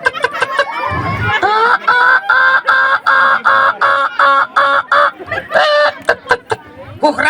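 A chicken clucks and squawks in a loud, close run of repeated rhythmic calls, with a brief voice early on and more squawks near the end.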